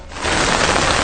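Heavy rain pours down during monsoon flooding on a hill-country estate, a loud, dense, continuous hiss that swells in quickly and holds steady without a pause.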